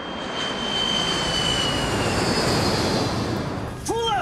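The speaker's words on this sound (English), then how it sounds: "40 seconds into the dive, the plane descends below cloud cover." A plane in a steep dive gives off a loud, steady roar of engine and rushing air that fills the whole clip, easing slightly before a sharp warning tone cuts in near the end.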